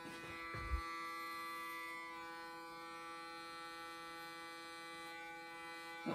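Electric hair clippers shave a head with a steady buzzing drone and a strong, even tone held throughout, fairly quiet and close, with a brief knock near the start.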